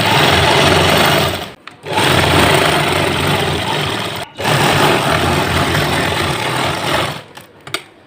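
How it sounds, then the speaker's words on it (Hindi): A sewing machine runs in long continuous bursts while stitching a hidden seam joining a salwar's lining to the main fabric, stopping briefly twice before resuming, loud and close with no talking. "हम पहले सिलाई लगाई उस तरह से हमने ये सिलाई लगा देनी है।"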